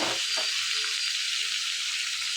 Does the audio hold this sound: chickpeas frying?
yes